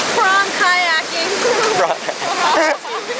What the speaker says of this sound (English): We are on the water slide.